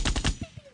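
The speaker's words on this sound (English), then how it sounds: "What is Editor Matthew gonna do with these gunshots?" A quick burst of rapid gunfire as an added sound effect, several close loud shots in fast succession that cut off abruptly within a second.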